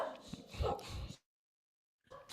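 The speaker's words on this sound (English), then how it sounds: "His dog disagrees with him vehemently" A dog barks in a short, close, muffled burst of yips and woofs. The barking cuts to a full second of silence before faint sound returns, and no talking is heard.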